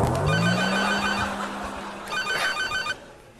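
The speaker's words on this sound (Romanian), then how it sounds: "Mărlane, treci la telefon" A telephone rings loudly in a Romanian sitcom scene, with a sustained electronic bell tone followed by a second shorter burst of ringing before it cuts off.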